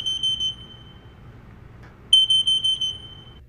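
Loud alarm notification from the WIN-911 mobile app, a piercing high electronic tone sounding steadily, pausing briefly, then resuming in rapid pulsing bursts, alone without talk.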